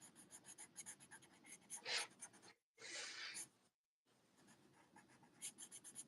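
Colored pencils scratching across paper during an intuitive art session, a steady close scribbling texture in short strokes with a brief pause partway through.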